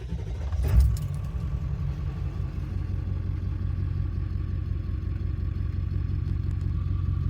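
Ford 7.3 diesel truck engine, upgraded, with a brief clattering burst at startup, then settles into a steady, loud, rumbling idle that continues throughout.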